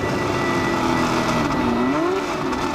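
A 1969 McLaren M9A race car is driven gently, its engine a loud, close, continuous drone whose pitch sweeps down and back up as it changes speed.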